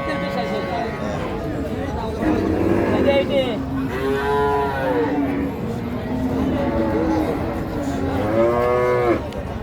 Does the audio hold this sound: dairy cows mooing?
yes